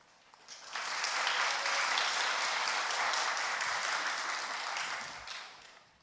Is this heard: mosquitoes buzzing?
no